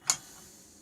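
A single sharp click from a torque wrench set to 40 foot-pounds while tightening a clutch bolt on a Polaris Indy snowmobile, with a faint ringing tail.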